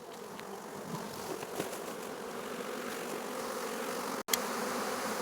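Honeybees from a swarm clustered on tree limbs hum in a dense, continuous buzz that fills the air, with a sharp snip of pruning near the end.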